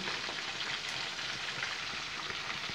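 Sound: onion frying in oil

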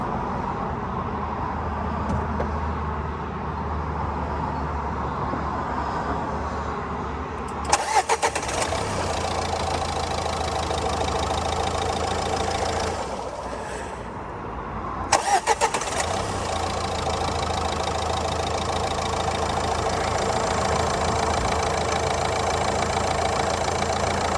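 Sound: car engine starting and idling

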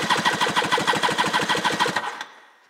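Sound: Yamaha Waverunner LX 650 engine cranking during compression test

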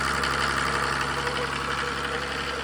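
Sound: Mercedes OM603 3.0 diesel engine running on an irrigation motor pump

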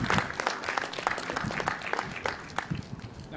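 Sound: audience clapping at ceremony

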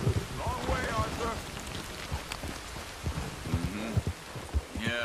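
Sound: heavy rain and thunder in Red Dead Redemption 2 video game

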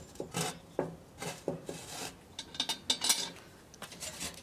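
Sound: charcoal briquettes placed on Dutch oven lid

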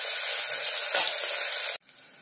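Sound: onions frying in a pan

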